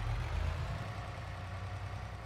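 Truck engine in Farming Simulator 22 rolling down a slope, a steady low idle-like rumble with deep bass throb, moderately loud and continuous, no voices.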